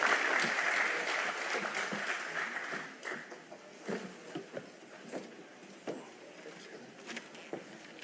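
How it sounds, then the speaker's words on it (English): A Kenya–South Africa business forum audience in Pretoria applauds, a dense wash of clapping that starts loud and tapers into scattered claps. "Round of applause, please."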